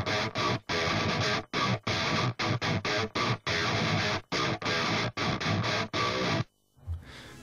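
Heavily distorted djent-style electric guitar chugs in tight bursts, each chopped cleanly to silence between hits by a noise gate, ending in a brief ringing tail.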